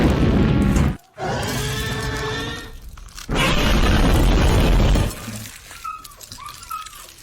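A comedic explosion sound effect delivers two loud, rumbling blasts split by a sharp silent gap, then dies away into a low, scattered fade.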